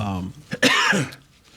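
A voice trails off, then one sharp, close cough bursts out, followed by a brief throat-clearing rasp.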